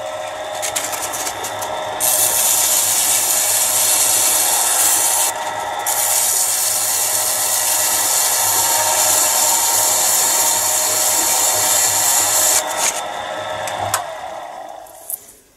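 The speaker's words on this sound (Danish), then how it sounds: "jeg vil lige starte den, og så vil jeg lige så forsigtig med noget rundt 400 sandpapir" A pillar drill spins with a continuous high whir while 400-grit sandpaper rubs against a Briggs & Stratton starter part to clean it. The tone briefly dips twice before the motor winds down at the end.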